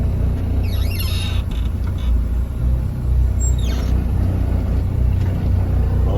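A Class A tractor-trailer truck pulls forward to test its service brakes, its diesel engine rumbling low and steady throughout, with a couple of faint squeals riding over the continuous idle-to-creep drone.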